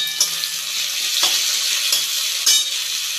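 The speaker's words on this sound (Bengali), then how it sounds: "পেঁয়াজের কালার চেঞ্জ হয়ে গেছে, ব্রাউন হয়ে গেছে। তো এবার আমি দেবো টমেটো কুচি।" Chopped tomatoes fry with browned onions in hot oil for a fish curry of tengra, giving a steady close sizzle with occasional stirring scrapes and no talk.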